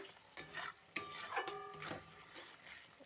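Free-range chicken pieces mixed with spices in a cooking pot give a few quiet, close scraping and clinking stirs over about three seconds.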